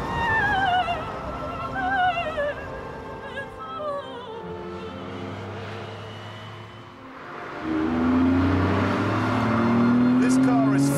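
A fast sports car with a 5.7-litre engine drives hard, its engine tone rising and falling through gear changes, dipping briefly before surging again in a loud, sustained pull.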